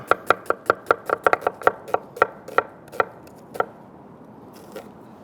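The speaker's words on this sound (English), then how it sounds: "Take the tops and the bottoms off of the onion. We're gonna cut right along with the ridges, just very thin." Knife slicing a peeled onion very thin on a cutting board, a quick series of sharp, close chops, about fifteen, that slows and thins out toward the end, with no talk.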